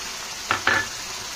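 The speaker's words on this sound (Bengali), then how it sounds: "একটু খুন্তিটা দিয়ে নাড়িয়ে দিচ্ছি" Two quick scrapes of a spatula stirring koi fish curry in a pan, short metallic strokes close by over a faint background sizzle.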